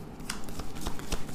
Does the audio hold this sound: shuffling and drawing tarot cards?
yes